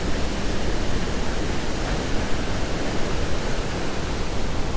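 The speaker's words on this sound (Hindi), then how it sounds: "हर तरफ से जैसे पानी के सारे बंद खुल गए हैं और अब वो तेज़ी से गिर रहा है" Loud, unbroken roar of rushing, falling water at Iguazu Falls, dense and steady like a nearby waterfall, with no voices.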